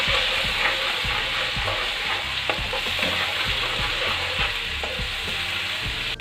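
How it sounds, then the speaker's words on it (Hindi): Ginger garlic paste frying with browned onions in a pot for a chicken biryani, a dense steady sizzle close up, with regular scraping knocks from stirring and no voices. "हम अदरक लहसुन का पेस्ट डाल रहे हैं और इसको अच्छी तरह भूनेंगे"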